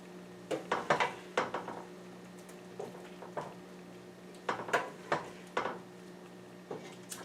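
A spoon scrapes and clinks against a pot while chili with vegetables and sweet potatoes is served out, giving a series of soft wet knocks and scrapes in irregular bursts, close and fairly quiet, with no talking.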